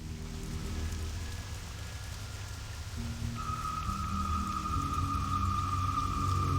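Steady in-game rain in World of Warcraft Classic on the approach to Tarren Mill, a constant wash of patter with a faint sustained tone joining midway and low ambient music underneath.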